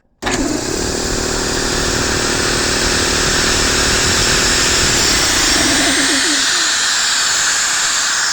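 A free air compressor starts abruptly and runs steadily at close range, giving a loud, continuous broadband hiss over a low mechanical hum with an underlying motor drone.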